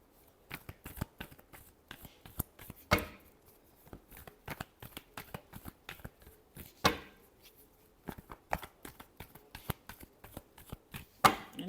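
Tarot cards are shuffled up close in quick, crisp riffling bursts and taps, with a few louder snaps among them and no talking.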